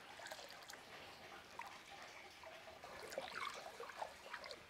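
pH adjuster is stirred into hydroponic nutrient water, giving a steady, faint sloshing and trickling of liquid with small splashes throughout, close by and with no talking.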